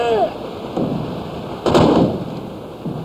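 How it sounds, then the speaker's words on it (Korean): A single loud cannon shot bursts out midway and rolls off into a fading echo, with a few softer thuds before and after. "공격 준비를 알리는 대포 한 발이 하늘로 치솟고"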